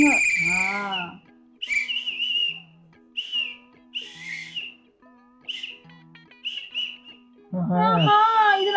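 Whistle sounds from a mobile hero game in a reaction session, short shrill tones over game music with chirpy effects, between bursts of loud high-pitched voice or scream sounds.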